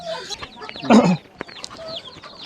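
Brahma chickens kept as fancy poultry cluck and squawk nearby, with one louder burst in the middle among softer chattering calls, while a person talks quietly underneath.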